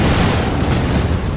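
A rocket explodes in Ratchet & Clank Future: A Crack in Time with a loud, dense roar that stays close and strong for its whole short length.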